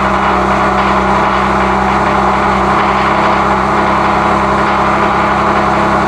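A Ford Focus ST with a big turbo runs after its first start in a year, its engine droning loud, close and unbroken throughout.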